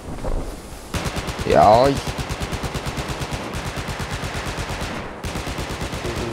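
Rapid automatic gunfire from Battlefield's Operation Firestorm map rattles in a steady, loud rhythm, broken by a brief louder burst and a short pause, with a man's brief exclamation over it.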